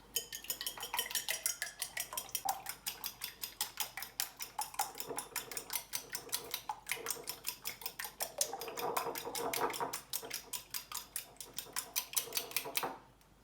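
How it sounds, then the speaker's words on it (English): Eggs whisked in a bowl for Irani café-style mutton kheema cutlets: rapid, even clinking strokes against the bowl repeat several times a second, quiet and close, with a brief pause and no talking. "Now I've finished whisking the eggs."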